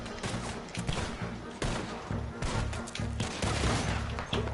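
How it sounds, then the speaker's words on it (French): Shotgun fire in a Red Dead Redemption game: several sharp blasts at irregular intervals, somewhat distant and muffled, over a low rhythmic backdrop, with a voice speaking faintly under it. "Balle de fusil à pompe de loin."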